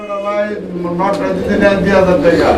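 Lakkha fancy pigeons coo in low, soft murmurs at a pigeon seller's stall, partly masked by someone talking nearby.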